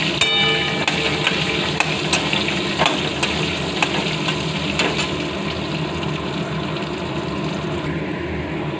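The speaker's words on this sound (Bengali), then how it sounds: "এবার আলুর মধ্যে দেব হলুদ আর নুন, ভালো করে লাল করে ভেজে নেব।" Potato pieces frying in hot oil with turmeric and salt, a steady close sizzle with occasional sharper crackles and stirring scrapes, continuous throughout with no talking.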